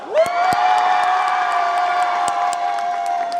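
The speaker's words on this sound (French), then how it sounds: "Bravo, applaudissez-vous très fort." A cosplay contest audience breaks into loud, sustained cheering and applause, a dense crowd roar with whoops and a few sharp claps lasting the whole stretch.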